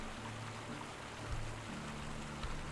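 Waterfall in the video game Medieval Dynasty, a steady broadband rush of falling water at moderate level, continuous throughout with a faint low tonal hum underneath and no talking.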